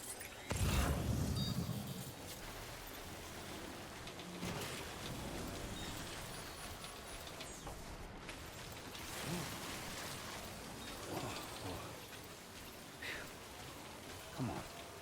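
Steady rain falling in the video game Death Stranding, a soft continuous patter with a few heavier thumps and bumps, fairly quiet throughout.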